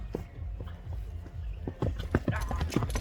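A horse runs, its hooves striking in a quick, irregular clip-clop that grows louder and closer toward the end, with faint voices in the background.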